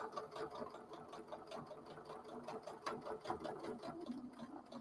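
A sewing machine stitches steadily, its rapid mechanical rhythm quiet and continuous, with no talking over it.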